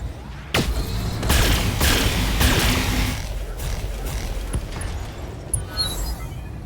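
A mech's weapons salvo in the BattleTech game, including a large laser: a rapid string of heavy booms and thuds with rumbling mechanical noise, loud and close, then settling into a quieter hum.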